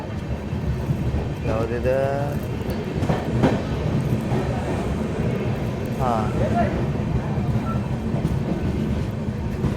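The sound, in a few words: train overtaking another train near Yadgir station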